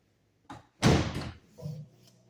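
A Whirlpool dishwasher door swings shut in a kitchen: a light knock, then a loud slam with a rattle, followed by a softer thunk as it settles.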